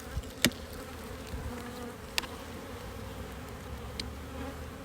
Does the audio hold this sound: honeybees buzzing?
yes